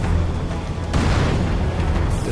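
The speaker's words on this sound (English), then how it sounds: "That one blows up." An explosion in the video game Halo 2 lands as a loud, broad boom about a second in, over a steady low rumble of in-game engine and combat noise, with a sharper bright burst near the end.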